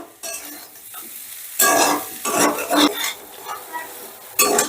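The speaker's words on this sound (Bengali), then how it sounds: "এবারে এই মশলাগুলো দিয়েও সবজিগুলোকে বেশ ভালো করে ভেজে নেব" Vegetables with spices being fried and stirred in a pan for paneer kachori filling, with bursts of sizzling and scraping from a spoon or spatula against the pan, loud and close, pausing between stirs.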